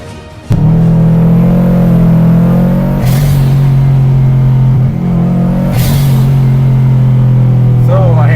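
A tuned first-generation Subaru Impreza STi accelerates hard, its engine droning loud and close with steady harmonics and brief rises at each gear change, running continuously after a sudden start.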